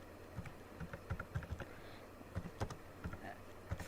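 Quiet, rapid keystrokes on a computer keyboard come in short uneven bursts of close clicks, with no talk.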